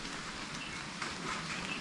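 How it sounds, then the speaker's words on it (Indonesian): Light drizzle falls outdoors at the Sedepok hermitage on the slopes of Mount Wilis, a soft, even hiss of fine rain with no speech over it. "Ya ini gerimis"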